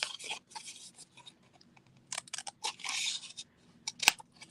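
Scissors snip through a paper tab while a birthday hat gift box is made, giving a string of short, close, crisp cuts with brief pauses and a sharper final snip.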